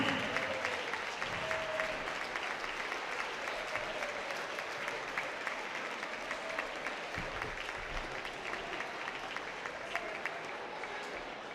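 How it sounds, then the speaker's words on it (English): Sustained applause for a girls high school basketball team, the Lady Eagles, in a gym, steady dense clapping with crowd noise running the whole time at moderate distance, a few louder claps standing out. "you know we're free to give this team a round of applause"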